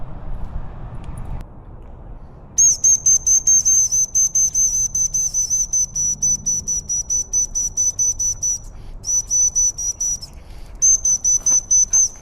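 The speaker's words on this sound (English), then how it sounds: "I'm gonna show you come when called with a whistle" A dog training whistle is blown repeatedly to call a dog, a loud shrill steady tone in a fast run of short evenly spaced pips, briefly paused and resumed, with faint background noise and no talk.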